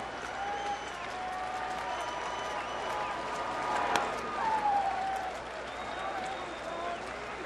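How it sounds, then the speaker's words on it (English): A sellout baseball crowd at Miller Park rises to its feet, giving sustained applause and cheering in a large stadium, with a commentator speaking over the din. "Now they're on their feet at Miller Park."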